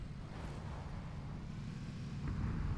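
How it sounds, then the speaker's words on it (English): Car engine rumbling nearby during a multiplayer shooter battle, a steady low drone that grows slightly louder toward the end, with no talking over it. "Car to my right."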